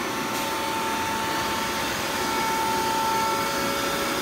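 A Nakamura TW-10MM CNC multi-axis turning machine runs its program with a steady loud whirring hum and a thin constant tone, continuous with no talk.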